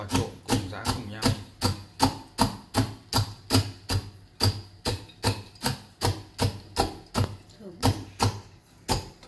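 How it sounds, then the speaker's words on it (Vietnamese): Salt and peanuts pounded together in a mortar, a steady rhythm of about twenty-five heavy thuds, loud and close, continuing evenly throughout. "cho vào trộn cùng giã cùng nhau."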